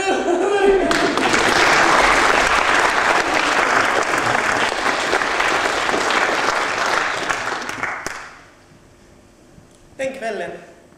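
A theatre audience at a Finland-Swedish revue bursts into loud, sustained applause that rolls on for several seconds before fading away, followed by a voice speaking briefly.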